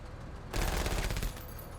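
Gunfire in the tactical game Menace breaks out after a half-second lull as a quick, rattling burst of automatic shots, fairly faint and distant-sounding, then fades.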